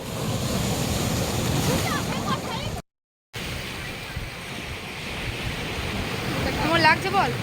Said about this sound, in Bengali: পেছনে ঢেউটা আসছে